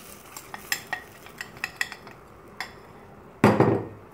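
Choux pastry dough of flour and sugar is stirred in a pot over a lowered flame, with a run of sharp utensil taps and scrapes against the pot, then one louder rough scraping burst.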